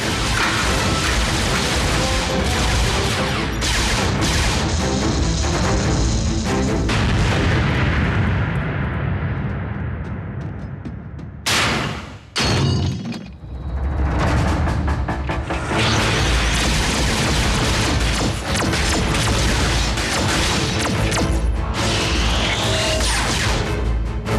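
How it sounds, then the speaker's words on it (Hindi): Cartoon explosions from the animated series Transformers Prime blow things up. Heavy, roaring blasts and rumbling debris fill the stretch, with a brief sharp drop and burst near the middle before the thunderous noise resumes. "इन्हें धमाके से उड़ाने की इजाजत है चीफ?"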